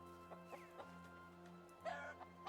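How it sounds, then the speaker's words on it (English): A rooster in the video game Medieval Dynasty clucks in short, soft bursts near a stick fence, faint over a steady low background drone. "Let's try and keep our rooster friend here contained."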